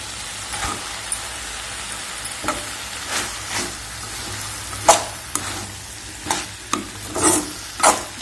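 Cooked chana dal stirred into cabbage curry frying in a pan: a steady low sizzle with repeated scraping spoon strokes at an uneven pace, close up and with no talking.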